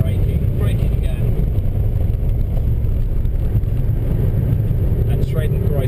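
Jaguar XJR575 running at high speed on the Nürburgring, a steady loud roar of engine and wind noise filling the cabin throughout, with no clear change as it brakes.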